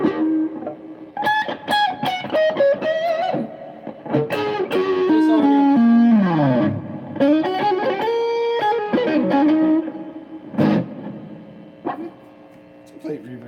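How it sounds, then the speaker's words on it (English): Electric guitar played through a digital plate reverb, with sustained chords and single-note runs ringing into a smooth wash of reverb tails, fairly loud and close, with pauses between phrases. "It's a plate reverb."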